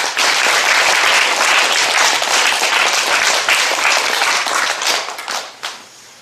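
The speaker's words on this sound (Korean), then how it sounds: "우리 하나님 앞에 커다란 박수 올려드립니다" A church congregation applauding, loud and continuous clapping for several seconds that thins and fades out toward the end.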